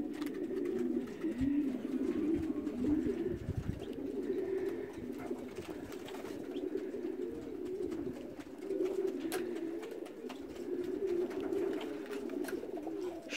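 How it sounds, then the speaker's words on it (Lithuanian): Male racing pigeons coo continuously in a loft, a steady low throaty burbling from several birds close by, with faint rustles and other soft noises in the background. "Patinukai burkuoja, girdisi."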